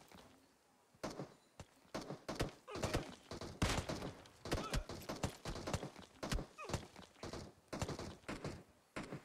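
Rapid bursts of gunfire from the PUBG Mobile battle-royale game, sharp cracks and volleys fired in quick irregular succession over about nine seconds, close and fairly loud with no talk.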